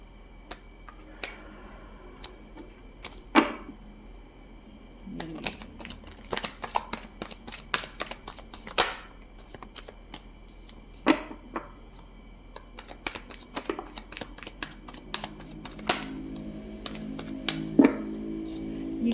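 Tarot cards being shuffled by hand, a steady run of soft papery riffles and quick flicks with occasional sharper snaps, close and fairly quiet throughout with no talk.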